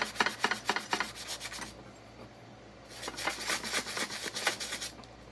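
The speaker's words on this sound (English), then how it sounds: "you just have to sand it the best you can" Sanding a Dollar Tree candlestick by hand for a DIY tiered tray, two bursts of quick, rhythmic scratchy rubbing strokes close up, separated by a short quiet gap.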